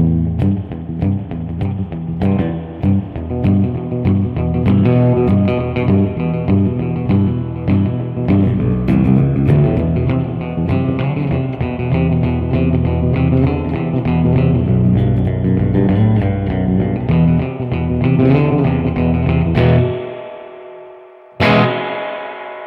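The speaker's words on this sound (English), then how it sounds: "That is an extremely convincing spring reverb. You can hear all the little bounces of the springs rattling." Guitar played through a Boss RV-6 reverb pedal on its spring setting gives a loud, sustained wash with splashy slapback and rattling decay, steady throughout before a brief cut and a sharp final splash.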